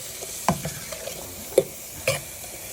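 Peppers fry in a pan for shrimp pasta, a soft continuous sizzle broken by a few sharp scraping stirs of a utensil against the pan.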